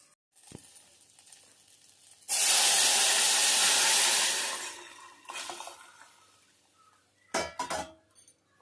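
Herbal juice squeezed from mixed leaves is poured into a pot of rasam, giving a loud two-second hissing splash, then quieter sizzling and a couple of sharp clinks of a utensil against the pot.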